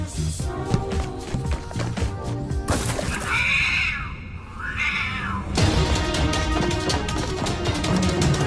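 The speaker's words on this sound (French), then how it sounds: "Petit chaton!" A kitten meows in a Fortnite video game film: a couple of rising and falling meows stand out midway over a busy, loud backdrop of music and game sound.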